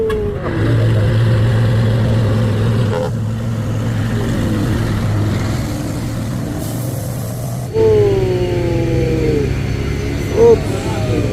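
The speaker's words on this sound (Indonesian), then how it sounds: "Wah, trailer balap setelah menyalip nenggak." A racing trailer truck's engine drones low and steady as it strains uphill at Bukit Kodok after overtaking, with a rising whine partway through and voices talking over it.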